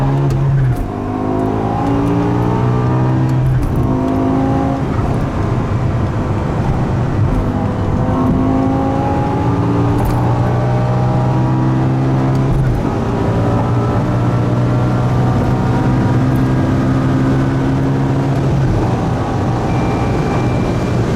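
An 800 hp G-Power BMW M5 with a supercharged V10 pulls hard along the German Autobahn. Its loud, close engine note climbs through gear after gear in repeated rising sweeps for the whole stretch.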